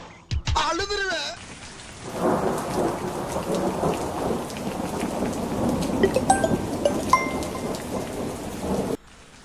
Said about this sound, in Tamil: இங்கே ஒரே மழை பெஞ்சிருக்காதான்